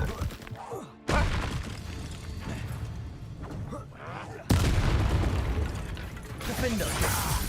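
Bombarda blasting spell in Hogwarts Legacy, heavy booming impacts cutting in abruptly around one second and again near four and a half seconds, amid mechanical clatter and game effects with a voice present.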